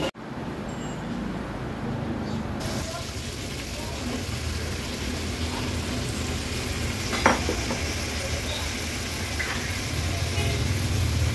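Prawns and chopped bottle gourd sizzle in a pan of spices for an Agri Koli style fish dish, a steady loud frying hiss with occasional stirring clinks throughout.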